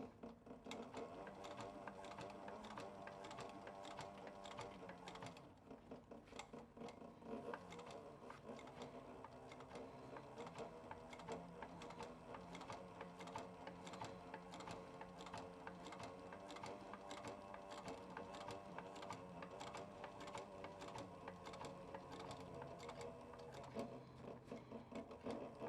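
A sewing machine runs steadily for nearly half a minute, stitching a leather duffel bag with a dense, continuous mechanical whir and rapid needle clatter and only a brief slowdown partway through.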